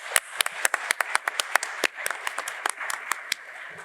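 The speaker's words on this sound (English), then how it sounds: "if I could just ask for a warm round of applause for our esteemed panel" Scattered audience clapping after a defense installations panel discussion at a conference, sharp individual claps spread unevenly across a smallish room rather than a dense ovation.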